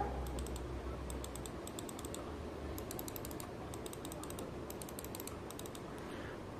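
A Zebronics computer mouse from a Zeb-Transformer keyboard and mouse combo, its buttons clicking in quick bursts of sharp, light clicks over a steady low hiss.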